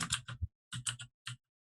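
Someone types on a computer keyboard picked up by a microphone during a live online show, with short clustered bursts of clicking separated by brief pauses.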